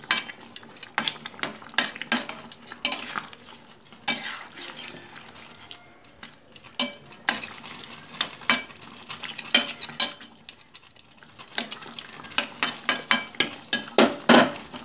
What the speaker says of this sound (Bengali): দিয়ে মশলাটাকে ভালো করে ঝোলের মধ্যে আমি মিশিয়ে নিচ্ছি।